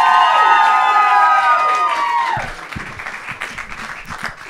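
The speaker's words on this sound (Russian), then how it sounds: "бурные аплодисменты!" Applause and cheering from a KVN comedy show audience rise under a fading musical fanfare, then continue as loud, dense clapping with shouts through the rest of the clip.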